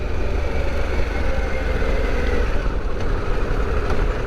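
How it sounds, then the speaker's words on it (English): A 2021 Harley Davidson Pan America 1250 motorcycle engine drones steadily at speed through a quiet exhaust, a continuous low rumble blended with wind noise and no talking. "it's definitely a quiet exhaust. You kind of just hear the engine more"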